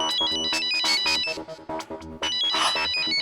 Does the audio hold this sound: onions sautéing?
no